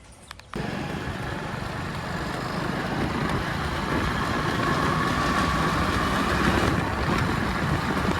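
Steady low rumble of a vehicle engine and road noise starting after a brief quiet moment, with wind buffeting, continuous throughout.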